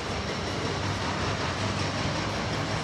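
A new CRRC passenger train departs, giving a loud, continuous broadband rumble and rolling wheel noise close by, with no talking.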